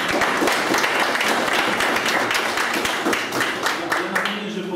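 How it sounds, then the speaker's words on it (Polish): An audience at a municipal council session in Poland gives sustained, loud applause for a newly introduced village head, with dense clapping filling the room and a faint voice near the end. "Proszę o brawa."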